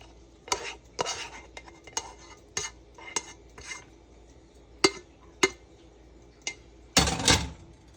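Kale greens being added to a pan and stirred, with sharp scattered clinks and scrapes of a utensil against the pan between quieter rustling, ending in a louder burst of stirring; no talk.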